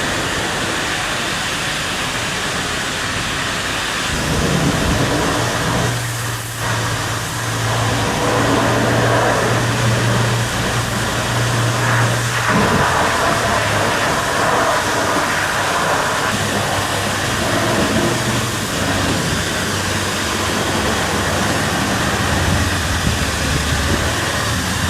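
Water from a pressure rinse wand spraying over a Hyundai Elantra at a car wash, a steady broad hiss running continuously throughout with a low hum beneath it and no talking.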